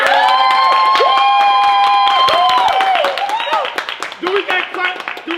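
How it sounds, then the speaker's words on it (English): An interview audience claps and cheers loudly, with whoops and shouting voices ringing over sharp, scattered hand claps that thin out toward the end. "we got claps"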